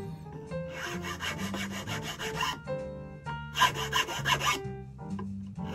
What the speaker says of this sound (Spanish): Y vamos a ir lijando de a poco.